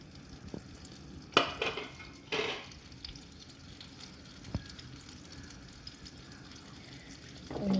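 Butter sizzles in a hot frying pan with an egg while a homemade pan pizza is made, giving a soft crackle broken by a few sharp clanks and scrapes of utensils against the pan.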